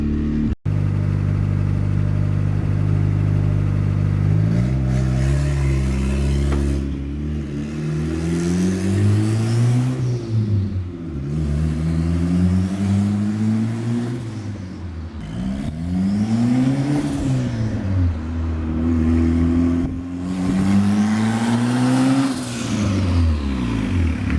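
A boosted Honda Accord F23 engine idles loudly and close, a low steady rumble that repeatedly rises and falls in pitch as it hunts and surges, with no voices over it.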